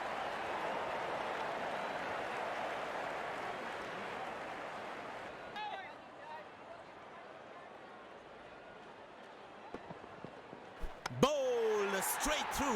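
Crowd applause from the cricket video game Real Cricket 24, a broad steady wash of clapping and cheering under a commentator's voice, fading away midway before sharp clicks and game sounds near the end.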